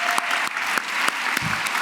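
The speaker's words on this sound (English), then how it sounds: "Let's give one more round of applause to our judges" A crowd at a youth entrepreneurship challenge claps for the judges in a short burst of applause that stays fairly steady.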